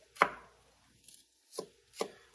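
A Damascus steel knife chopping bell peppers lengthwise on a board, making three or four crisp, close knocks spaced irregularly, with quiet gaps between the cuts.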